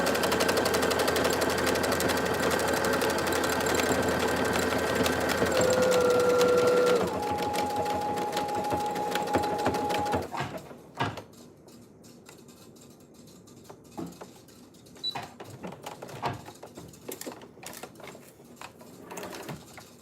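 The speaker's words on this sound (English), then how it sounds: "Now we're gonna sew all the way to here." A sewing machine runs steadily, stitching a seam for about ten seconds with a whirring, tonal drone, then stops and leaves quiet handling sounds and small clicks.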